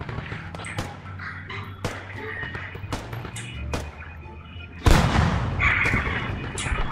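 Sharp gunshots crack out one at a time at irregular intervals during a large online war shooter match, with a louder, denser burst of fire near the end.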